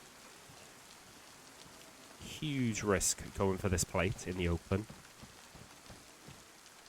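Steady rain falls in the survival video game DayZ, a soft continuous hiss that runs the whole time beneath someone talking in the middle of the clip.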